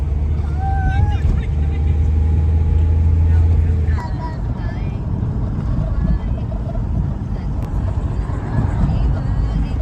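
A car grinds slowly up a steep, dangerous mountain road in Nepal in first gear at around 20 km/h, its engine a steady loud low rumble beneath people talking.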